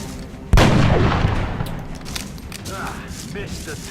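An explosion in the XCOM video game goes off as a sudden loud blast, then a rumbling tail fades slowly over the next few seconds, with smaller game sounds flickering in afterward.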